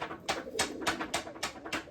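Racing pigeon cooing in a quick series of about six soft, rhythmic coos, close and fairly quiet with no talk over it.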